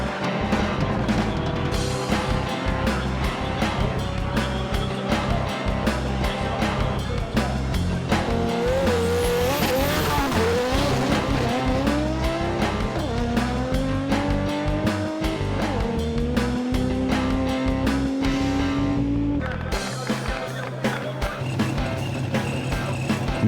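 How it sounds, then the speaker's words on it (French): A Chevrolet Camaro and a Renault 5 GT Turbo racing head to head in a knockout event, loud sustained engine roar with rising revving gear pulls, tire squeal and skidding, close and continuous throughout. "La Chevy Camaro du Suédois Stefan Gustafsson se débarrasse rapidement de la R5 GT Turbo de Gianni Santi"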